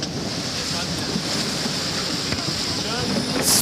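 Onboard a racing sailboat at speed, a steady loud rush of wind and splashing water fills the space, with buffeting against the microphone and a brief sharper gust near the end.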